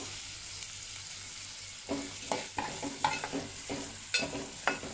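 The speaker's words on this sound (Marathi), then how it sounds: "कांदाही छान परतून घेऊया।" Onions and curry leaves sautéing in a pan for garlic-tempered pithla, a steady sizzle with scraping stir strokes that grow busier partway through, close and moderately loud, no voices.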